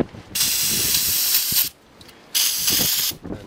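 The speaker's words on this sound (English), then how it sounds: "I'll brake clean it and hopefully get the rest off." Brake cleaner sprays from an aerosol can during work on a 1991 Volkswagen Jetta TD, in two loud, close hissing bursts. The first lasts over a second, then comes a short pause and a slightly shorter second blast.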